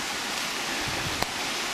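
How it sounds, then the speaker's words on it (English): Continuous broadband rush of a waterfall, steady and loud throughout with no pauses, apart from one brief click near the end. "here's the waterfall I was talking to you about the other day."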